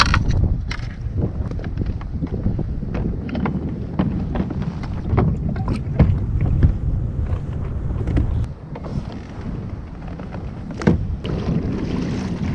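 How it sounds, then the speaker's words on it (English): Water sloshes and churns around a Riot Mako 12 pedal kayak moving along, with steady low rumble and wind buffeting the microphone throughout and no speech. "I really want to try out this Mako 12 pedal kayak."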